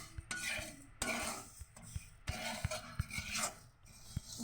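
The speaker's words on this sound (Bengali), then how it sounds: "এরকম করে আমি নেড়ে নিয়েছি।" A spoon stirs semolina with sugar and water in a bowl, making quiet, close, rhythmic scraping and clinking strokes against the bowl.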